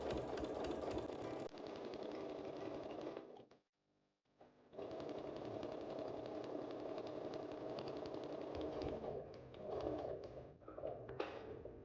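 A sewing machine stitches a quilt binding in a steady, fast mechanical run, close and even, pausing briefly partway before resuming at the same pace, with no voices.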